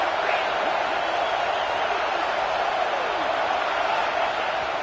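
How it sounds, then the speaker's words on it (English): Fired-up college football crowd at a playoff game, a steady wall of roaring noise from the stands with no break, loud and distant. "this crowd is fired up. Listen to this noise here"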